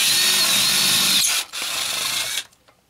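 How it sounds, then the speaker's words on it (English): A 5/16 pilot drill boring through material, a loud high whining grind that runs for over a second, stops briefly, then resumes before cutting out, close and without talking. "got the pilot drill, 5/16 drill"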